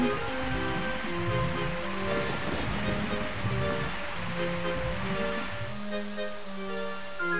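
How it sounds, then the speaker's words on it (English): Steady, dense rain hiss falling indoors inside the windmill in the video game Ocarina of Time, continuous and fairly loud throughout, with a looping, pulsing game melody playing over it and no talking. "In fact, it's raining just as hard inside as it is outside."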